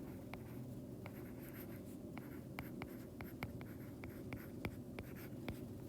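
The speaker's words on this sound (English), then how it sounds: "I can probably just write these right here." Handwriting during a physics lesson, faint pen strokes and taps on paper in an irregular rhythm over a quiet room hum, with no talking.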